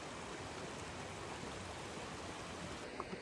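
A small mountain waterfall in the Pyrenees of Ordesa y Monte Perdido rushes in a steady, dense wash of falling water, constant and fairly close with no break in the flow.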